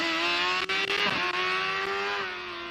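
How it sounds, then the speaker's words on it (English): A Formula Student race car launches off the starting line at a dynamic event, its engine screaming loud and close in a high sustained rev that dips briefly and then fades slightly as the car pulls away. "you could hear the RPMs dropping just after they got off the starting line"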